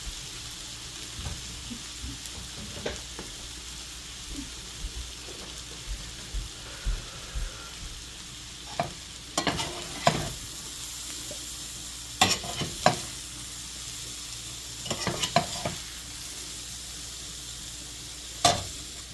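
Cabbage, potatoes, onions and ground pork fry in a pan with a steady low sizzle, broken by scattered clicks and sharp scrapes of stirring, some louder bursts near the middle and end.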